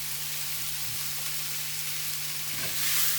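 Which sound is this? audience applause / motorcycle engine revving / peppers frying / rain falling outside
peppers frying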